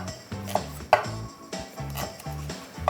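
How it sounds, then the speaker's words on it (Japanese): A knife slices a halved onion against the grain on a cutting board while cooking Japanese-style hayashi rice: a steady series of close, crisp chops over soft background music. "玉ねぎの食感を生かすように繊維に逆らって切っていきます。"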